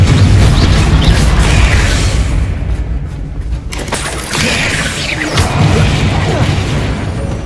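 The Confringo blasting spell in Hogwarts Legacy, loud booming explosions with crackling debris layered over dense game noise, several heavy blasts rolling through the scene.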